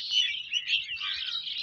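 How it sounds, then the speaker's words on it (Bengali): Birds chirp and tweet in quick, bright overlapping calls throughout, fairly close and clear with no other sounds around them. "পাখির শব্দ"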